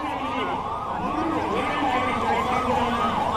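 An emergency siren at a civil defence mock drill wails in steady rising and falling sweeps, loud and continuous from start to finish.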